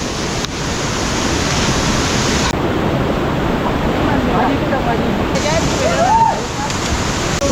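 A loud, steady rush of water flowing through a full stream fills the whole clip, a continuous broadband roar with no pauses.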